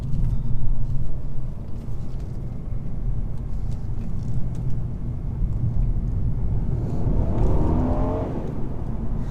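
A 2014 Mercedes E400 coupe engine pulling under acceleration, a steady low rumble with a rising tone building toward the end, heard from inside the car with no talking.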